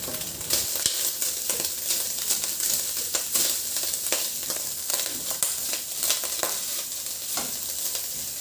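Garlic and onion sizzle steadily in a hot pan, close up, with the crackle of frying and occasional scrapes and clatters of stirring throughout.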